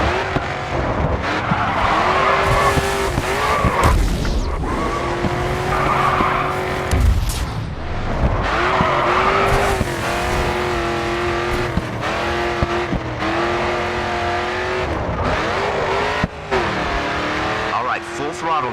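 A race car in the Grid 2 racing game slides through turns with long tire squeals over a loud, continuous revving engine; a voice talks over it throughout.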